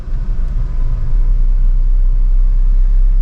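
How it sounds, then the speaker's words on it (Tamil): Steady low engine rumble of a 2024 Tata Altroz Racer Edition heard from inside the cabin while driving, a constant loud drone with road noise and no talking. "நம்ம நல்ல ரம்பல் கொடுக்கும் போது நாய்ஸ் உள்ளே வருது"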